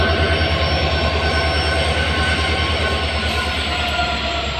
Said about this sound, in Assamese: উঠি লওঁ ট্ৰেইনত এতিয়া।